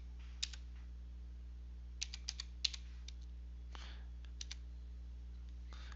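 Short bursts of keystrokes on a computer keyboard entering a number, quiet close clicks in small clusters separated by pauses, with a faint steady hum beneath and no talk.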